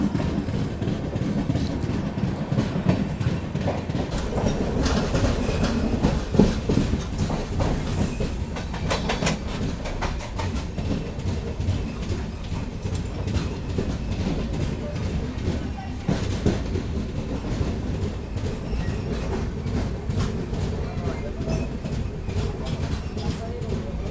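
The 12710 Simhapuri Superfast Express runs steadily along the rails near Khammam, a continuous loud rumble with rhythmic clickety-clack of wheels over joints, heard from inside the moving train.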